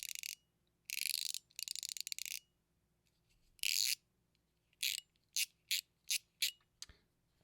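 A KAiS Popo fidget toy clicks and rattles in a ratchety way, nearby, in separate bursts: a few longer runs, then a quick string of short clicks, with quiet gaps between.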